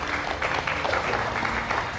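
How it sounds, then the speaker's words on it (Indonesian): A live audience claps at an on-location tvOne broadcast event about Indonesia's 2024 presidential election, a brief, steady burst of dense applause heard on its own without speech. "Boleh tepuk tangan hadirin kita sekalian yang ada di lokasi."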